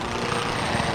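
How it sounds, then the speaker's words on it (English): An aircraft in trouble in a Call of Duty game, a steady, loud engine roar that fills the whole second without a break and with no talk over it. "that plane's in trouble"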